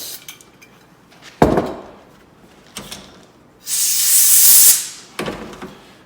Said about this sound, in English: I use a contact cleaner.